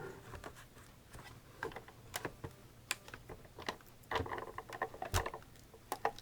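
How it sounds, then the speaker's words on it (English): A Cuttlebug die-cutting machine cranks paper through its rollers, giving quiet, irregular clicks and ratcheting ticks that come in bursts and build toward the end. "you feed it through your Cuttlebug"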